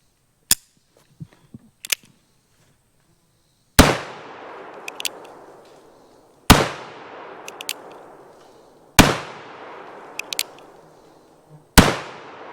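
Colt Single Action Army revolver shots: four loud, sharp reports spaced a few seconds apart, each ringing out into a long echoing decay, with mechanical clicks of cocking between shots and a few faint taps beforehand.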